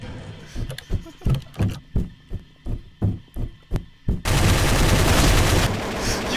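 Video game gunfire rings out as a rapid series of about ten sharp, evenly spaced shots, then gives way to a loud continuous burst of noise.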